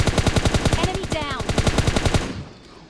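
Rapid automatic gunfire from PUBG Mobile Lite, a loud steady burst of evenly spaced shots lasting over two seconds before cutting off into a fading tail.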